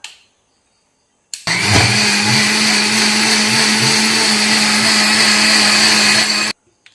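A kitchen blender churns cream with half cold water for homemade ghee, switching on abruptly into a loud, steady motor whir that holds for about five seconds before cutting off.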